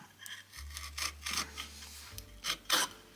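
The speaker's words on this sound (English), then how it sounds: "so let's see if it can cut wood." A freshly sharpened, previously blunt and nicked chisel pares into wood, giving short scraping, rasping strokes in quick succession, close and fairly quiet over a low hum.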